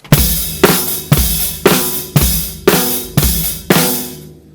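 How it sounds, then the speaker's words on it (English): A loud, close drum pattern with heavy regular hits about every half second, each followed by a washy, sizzling open hi-hat decay. "Then it goes into this open hi-hat type of driving groove,"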